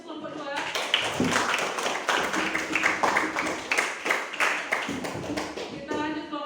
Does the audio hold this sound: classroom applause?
yes